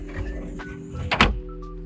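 A Kubota U55-4 excavator's cab window is lifted open, giving a brief mechanical slide and clunk near the close mic over a steady low engine idle.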